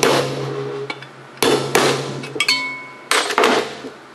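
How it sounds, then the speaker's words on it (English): Sharp metallic strikes of a small lump hammer on a punch in a few short bursts, each a quick tap or double tap ringing briefly, close and fairly loud, on a Tillotson 212 cc engine block. "Use a punch, a little lump hammer,"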